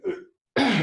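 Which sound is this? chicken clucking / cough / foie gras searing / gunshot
cough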